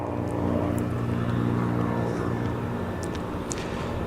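A Diamond light aircraft with a diesel engine drones steadily at an airport, its propeller hum holding even and fairly close throughout with no voices.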